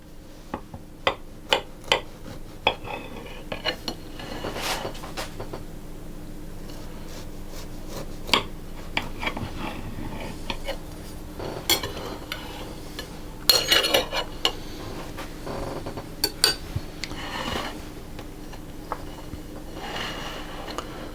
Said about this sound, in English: I would usually let that set just a little bit longer, but I'm going to cut a slice.